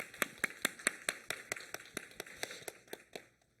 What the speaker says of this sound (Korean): 우리 다시 한번 더 하나님께 감사와 영광의 박수 올려드리겠습니다